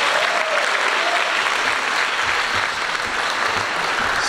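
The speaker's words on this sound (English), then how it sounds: "how about a round of applause for Mr. Scott Evislog and the entire Harrison High School administration?" A high school choral concert audience applauds the school administration with a full, sustained round of clapping from a large crowd, steady and fairly loud throughout, with no talking over it.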